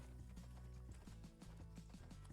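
A horse gallops in the Six-Guns video game, its hooves beating a quick, steady clip-clop rhythm over a low, droning game soundtrack, fairly quiet overall.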